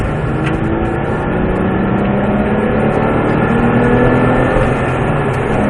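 A Porsche 997 GT3 Aerokit racing car accelerates on the Mettet circuit, its engine a loud, steady, rising drone heard from inside the car with no pauses.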